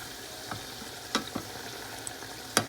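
Churros fry in hot oil with a low, steady sizzle, broken by a few sharp crackles and pops up close.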